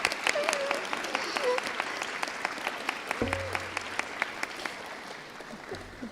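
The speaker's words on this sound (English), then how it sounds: "I would like for you to all stand so we can give you a round of applause." A commencement audience applauds the nurses at a nursing graduation in Spring Valley, a steady round of many hands clapping that carries through the whole stretch, with a voice briefly heard over it.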